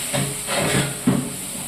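Ginger paste fries in a pan with browned onions for a potato kurma, giving a steady, close hiss broken by a few soft stirring scrapes.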